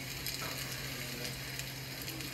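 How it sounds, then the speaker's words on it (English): Continuous sizzling of shrimp and chicken fried rice in a hot pan, a steady hiss with faint crackles and a low hum underneath. "That sound right there says we're frying up some good fried rice"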